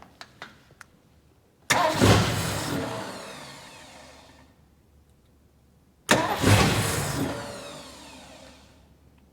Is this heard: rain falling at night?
no